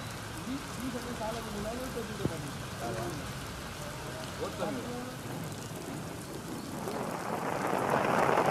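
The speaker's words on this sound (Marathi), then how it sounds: "कसबा शास्त्री पूल भागाला मुसळधार पावसानं झोडपलेला आहे" Dense, steady monsoon rain pouring down on Sangameshwar, India, with a constant hiss, swelling louder toward the end, while a voice talks faintly beneath it.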